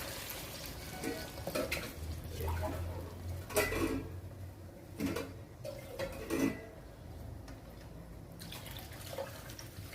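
Water splashes and pours from a vessel into a metal pan in a few bursts while making rava upma, with soft clinks of utensils between pours in a quiet kitchen.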